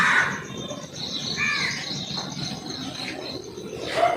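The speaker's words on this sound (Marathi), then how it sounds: "मस्त पक्ष्यांचा आवाज" Birds chirp and tweet in short bursts against a soft outdoor background, with insects faintly buzzing throughout.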